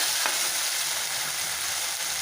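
Ginger garlic paste sizzling steadily in a hot pan while being stirred, a dense continuous frying hiss heard up close with no talking.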